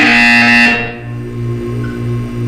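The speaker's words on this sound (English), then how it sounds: "You will hear a buzzer." A loud electronic buzzer in Portal 2 blares for under a second and cuts off, leaving a low hum behind.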